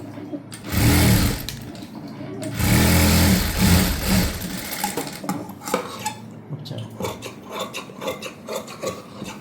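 A sewing machine stitches around the edges of blouse front pieces for a prince cut blouse, running in loud bursts of fast whirring that stop and restart, with lighter mechanical clicks between runs.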